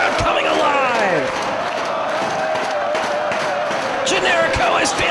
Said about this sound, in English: Listen to these fans! This Boston crowd coming alive!